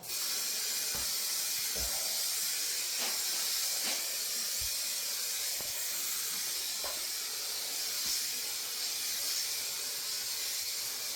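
Rattle-can spray paint hissing steadily and close while a Jaguar X-type is painted, one continuous spray broken by faint knocks and clicks.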